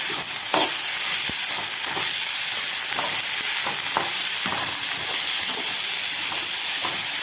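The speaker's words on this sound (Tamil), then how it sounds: "வெங்காயம் நல்லா வதங்கிடுச்சு பாருங்கள் இப்போ வந்து இந்த கோஸ் எடுத்து போட்டோம்" Steady, loud sizzling of onions and cabbage frying in a pan, with occasional scraping and stirring clicks throughout.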